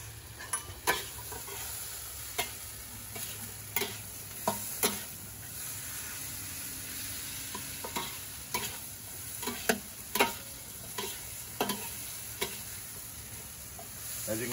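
Vegetables stir-frying in a wok on a Big Green Egg grill, a constant soft sizzle broken by regular metallic scrapes and taps from a spatula, close and clear without talk.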